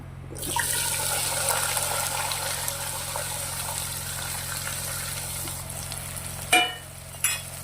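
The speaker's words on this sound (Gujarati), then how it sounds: "થોડી વાર આને સંતરાવા દઈશું ફુલાવર તેલના અંદર" Cauliflower florets hit hot oil tempered with cumin and asafoetida, bursting into a loud, steady sizzle heard up close, followed near the end by two sharp utensil knocks or stirring clatters.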